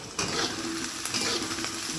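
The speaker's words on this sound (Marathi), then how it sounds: "एक 2 मिनटं आपण असा कांदा परतून घ्यायचा आहे. कांदा चांगला लाल होईपर्यंत आपल्याला परतून घ्यायचा आहे." Onion being sautéed in a pan until it turns reddish-brown, made for a spinach bhaji: a steady close sizzle with faint stirring scrapes running throughout, no voices.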